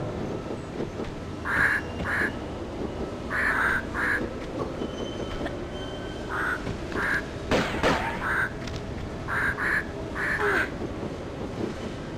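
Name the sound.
bird sounds in video game Tomb Raider 2 Remastered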